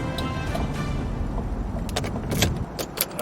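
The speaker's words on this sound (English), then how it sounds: "Fine, I'm pulling over." A car rumbles steadily from inside the cabin as it pulls over, a close low road drone with faint jingling and small clicks on top.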